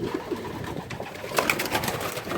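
Pigeons coo softly inside a loft, several low throaty calls overlapping with faint rustling and movement of birds nearby, no voices present.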